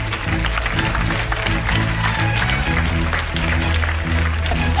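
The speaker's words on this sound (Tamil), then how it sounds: "ஒரு பலத்த கைத்தட்டல் லோகேஷன் குடிகாபி." Loud applause from a studio audience on a Tamil comedy show, steady and dense throughout, with a low musical bed running underneath.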